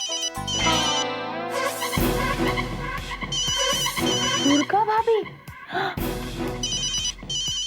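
A telephone rings in repeated bursts, loud and close, while people talk over it with expressive, animated voices.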